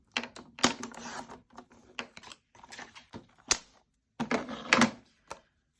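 Scrap paper being cut to size for a folio pocket, a series of short crisp slicing and clicking strokes in bursts, close and fairly quiet with no talking.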